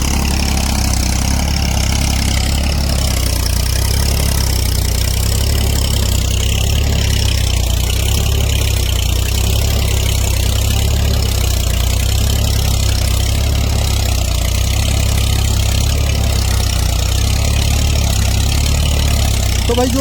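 A 60 HP tractor engine runs steadily at 1200 rpm with a loud, continuous low diesel rumble and no breaks over the whole stretch.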